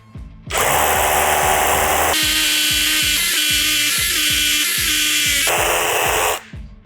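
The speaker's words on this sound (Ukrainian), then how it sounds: "Режим удару із свердлінням. Поїхали. Перший отвір." A Procraft cordless rotary hammer in hammer-drill mode at maximum speed drills steadily for several seconds, with a loud whining motor and a rapid pounding hammer rhythm underneath, close by.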